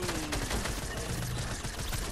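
Rapid video game gunfire from snipers, a dense crackle of overlapping shots with sharp individual reports, loud and continuous throughout the short burst.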